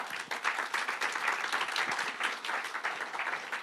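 A church congregation applauds Christ with a lively, sustained burst of clapping, a thick, even crowd sound that continues without a break.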